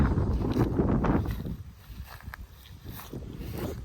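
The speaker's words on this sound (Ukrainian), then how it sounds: "Вітер сьогодні." Wind gusts across an open wheat field during spraying, buffeting the microphone in strong rumbling bursts early on, then easing into softer, uneven gusts.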